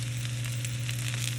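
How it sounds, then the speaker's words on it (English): Mushrooms frying in a little oil in a pan, a soft continuous sizzle over a low steady hum, no voices. "And I'm gonna add a little drizzle of oil. And then I'm gonna add my mushrooms."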